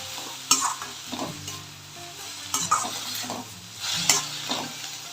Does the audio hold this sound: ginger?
yes